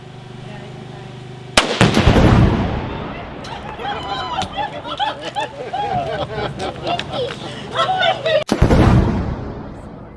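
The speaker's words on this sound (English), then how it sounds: "It was a heck of an explosion." A tannerite charge blows apart a barrel out in open country: a loud, sharp blast with a rumbling tail, then people talking and reacting, then a second sudden heavy blast near the end.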